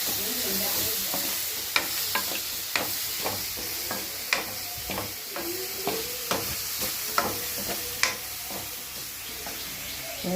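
Mustard seeds, fenugreek, crushed ginger, garlic and shallots sizzle in hot oil for an appalam kuzhambu, with steady frying hiss and repeated sharp spoon scrapes against the pan, close and clear.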